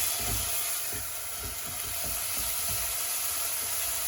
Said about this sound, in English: all my bay leaves, cardamom and cinnamon stick, all in there, and just give it a good stir